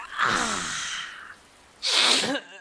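A person sneezes twice in quick succession, close and loud, the first sneeze longer and the second a sharp, breathy burst.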